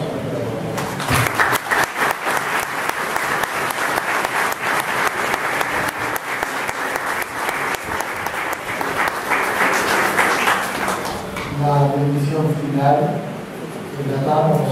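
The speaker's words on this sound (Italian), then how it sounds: "così da avere un applauso per loro" Audience applause at a church Jubilee celebration in Quilmes, loud sustained clapping from a crowd for about eleven seconds, then fading as music or singing rises near the end.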